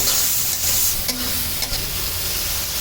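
Chopped tomato, chilli, onion and salt stirred together in a hot pan, a brisk scraping stir over a steady close sizzle, with a couple of sharper utensil knocks.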